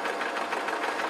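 A sewing machine runs a fast, even stitching rhythm on a pleated gossamer shirt, heard close and alone for a brief stretch.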